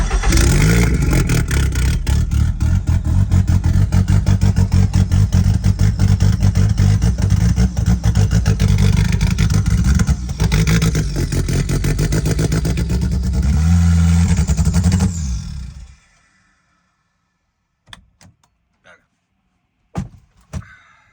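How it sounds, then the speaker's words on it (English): A Mazda MX-5 ND2 fitted with a swapped 8HP45 automatic gearbox starts and runs loudly and steadily for about fifteen seconds, then cuts off, leaving quiet with a few brief knocks. "But let's check out some HP shifting. Start the car."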